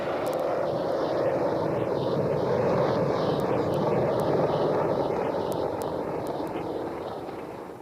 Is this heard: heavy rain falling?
no